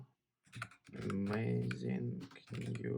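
Rapid clicky keystrokes on a MECH K301 mechanical computer keyboard, close and continuous after a brief silence, with a voice speaking over the typing.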